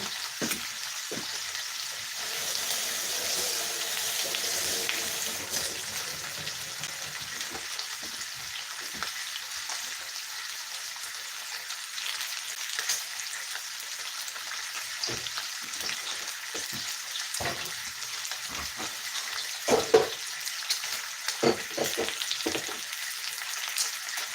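Eggs fry in a pan with a bright, steady sizzle and crackle, strongest early on, then spatter in scattered pops and stirring scrapes; close, moderately quiet, no voices.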